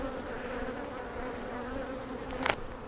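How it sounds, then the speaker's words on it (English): Honeybees buzz around an open hive during a queenless colony check, a steady, soft drone close by with a brief louder buzz as one bee passes near. "These bees also seem pretty calm."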